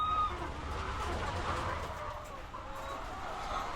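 Soft, scattered clucking of chickens nearby over a low rumble of wind and distant traffic.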